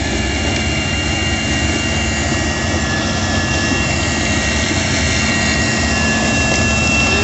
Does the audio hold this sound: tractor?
yes